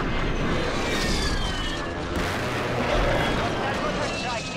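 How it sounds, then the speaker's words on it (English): Continuous heavy explosions and booming blasts from a mortar strike in the video game Call of Duty, loud and dense, rolling over each other for several seconds with a brief dip midway. "And a mortar strike."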